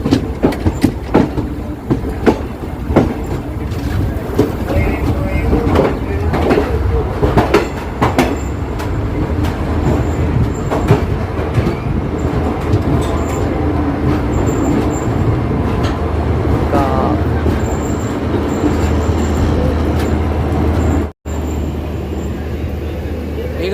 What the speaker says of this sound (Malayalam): 1 മണിക്കൂർ ഡിലേ ഉണ്ടായ വണ്ടി ഇപ്പോൾ 15 മിനിറ്റ് ബിഫോർ ടൈമായിട്ട് മടുക്കാവ് ജംഗ്ഷനിലേക്ക് പ്രവേശിച്ചുകൊണ്ടിരിക്കുകയാണ്.